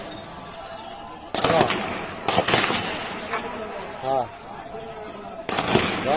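Several loud, sharp gunshot cracks during a jailbreak at Jamalpur jail in 2024, scattered bursts heard at a distance with people talking and shouting in between.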